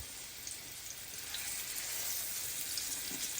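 Hamburger steak patties searing in grapeseed oil in a hot pan, a dense, steady sizzle and crackle that grows slightly louder, with no talking.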